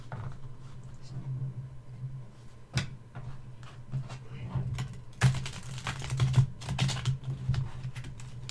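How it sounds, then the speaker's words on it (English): Stiff tarot cards are shuffled sideways by hand, with repeated soft slaps and riffling clicks over a low steady hum, building to a busier patter toward the end. "I prefer to shuffle in a sideways manner"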